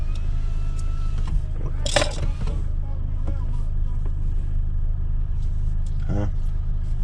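Car driving through downtown Asheville, a steady low engine and road rumble running throughout, with a couple of brief sharper noises and people talking inside the car.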